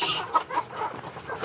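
Farm chickens on an integrated livestock farm cluck softly and continuously at moderate distance, short scattered calls overlapping, with a slightly louder squawk at the end.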